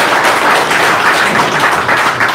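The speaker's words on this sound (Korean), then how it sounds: "자, 다시 한번 격려 박수 보내주시기 바랍니다" Audience applause at an outdoor launch rally opposing the dismantling of river weirs, a loud steady crowd of many hands clapping continuously and close, with no talk over it.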